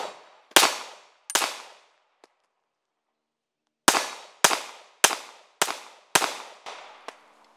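Sharp gunshots from a Shield pistol firing .38 SWC bullets from an 8-round magazine: two quick close reports, a pause, then six more in a steady rhythm, each loud crack trailing off with a brief ring.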